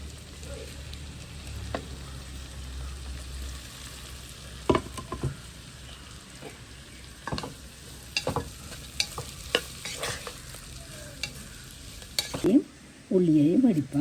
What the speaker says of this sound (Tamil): நெய் கொதிக்கணும். இதுக்குள்ள கொதிச்சிட்டு வெங்காயத்தை போடுவோம்.